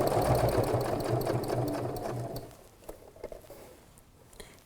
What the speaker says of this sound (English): Needle in, and start stitching.